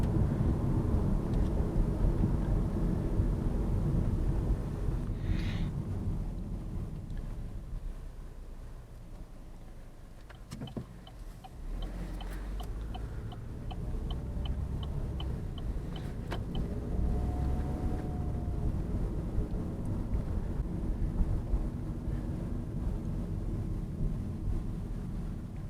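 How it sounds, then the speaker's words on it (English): Road noise inside a 2017 Chevrolet Cruze LT while driving: a steady low rumble and tyre roar fills the cabin throughout, with a slight dip midway and a few faint clicks and creaks, and no music. "you can really catch a lot more road noise that way"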